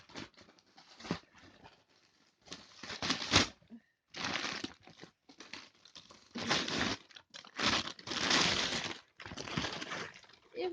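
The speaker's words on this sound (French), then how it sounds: "la première couche d'emballage est enlevée" A parcel's outer packaging layer is torn open by hand in loud, ragged bursts of ripping and crinkling, separated by short pauses, close up with no talking.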